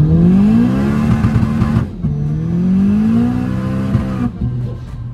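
A big-turbo 600 hp front-wheel-drive VW Scirocco with DSG gearbox revs hard and climbs through the gears at 2 bar boost, loud and close, with a brief drop between shifts and a turbo whoosh.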